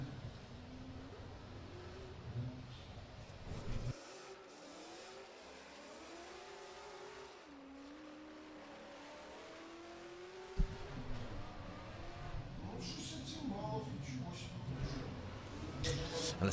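A drift car revving and sliding through a qualifying run at a drift championship round in Oman, its engine pitch rising and falling in long sweeps, with loud crowd and track noise around it and a commentator talking over it.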